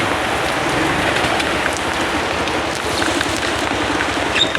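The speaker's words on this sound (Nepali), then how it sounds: "यत्रो पानीमा काम छैन त्यत्तिकै डुलेर हिँड्छ भने पानीले मार्यो" Heavy rain pours down steadily and loudly, a dense continuous hiss of drops hammering nearby surfaces with no pauses and no voices.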